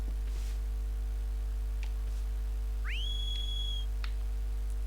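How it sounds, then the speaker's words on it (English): A clear rising whistle calling the horse Agro in the video game Shadow of the Colossus, a single sustained tone that sweeps up and holds for about a second over a steady low background hum. "if you press X, you'll either whistle or call out to Aggro"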